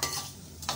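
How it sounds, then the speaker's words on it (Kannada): Food frying and being stirred in an old, blackened cooker used as a thick-bottomed pan for vangibath, with brief scraping strokes at the start and end over a soft sizzle. "ಇದು ಯಾವುದೋ ಒಂದು ಹಳೆ ಕುಕ್ಕರ್ನಲ್ಲಿ ಮಾಡ್ತಾ ಇದ್ದೀನಿ ಫ್ರೈ"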